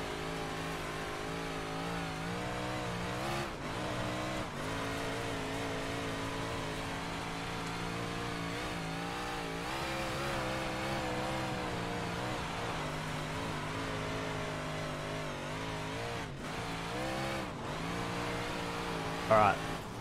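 A dirt modified race car in iRacing, a 358 or big block modified, drones steadily through laps on a short track. The engine tone rises and falls with each throttle change and runs loud the whole time.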